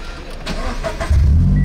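A manual-transmission car being driven by a learner working the clutch, with brief thumps and shifting noises before the engine note rises into a loud, steady low hum.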